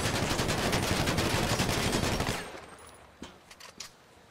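Rapid automatic gunfire from the video game GTA 5 aimed at an armored Nightshark, a loud dense burst lasting about two seconds before cutting off, followed by a few scattered impact clanks.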